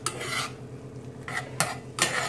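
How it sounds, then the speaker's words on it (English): Enchilada sauce being stirred in a pot at home, giving soft scraping swishes in three or four separate bursts with quiet gaps between them, close and moderately loud. "every couple minutes we'll stir this sauce"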